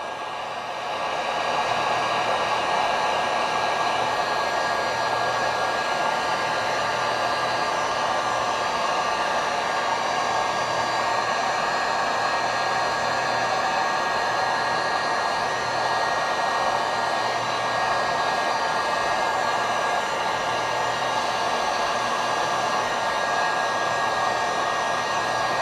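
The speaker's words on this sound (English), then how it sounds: "Not getting the heat gun too close." A heat gun blows a steady, loud, even hiss of air for the whole stretch while shrinking the covering film on an RC airplane, with no talk.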